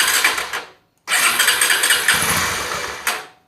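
After an oil change, a Honda Tornado XR 250 motorcycle engine cranks briefly, stalls into a short silence, then catches and runs with a loud close putter that settles toward idle.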